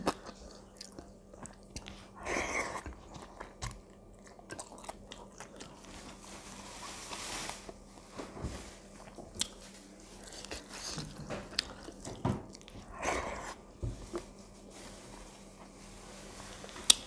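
Crispy fried fish, served with okra leaf soup, is bitten and chewed up close in a quiet room, with sharp intermittent crunches spread through steady softer chewing.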